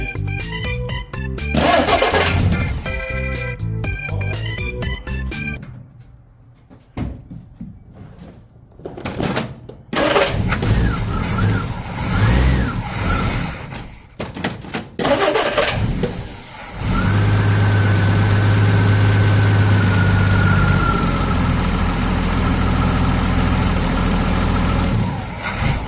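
A 1974-era car engine with a new starter and a cheap aftermarket carburetor cranks and catches in loud sputtering bursts, stumbles, revs, then settles into a steady, rough, close idle.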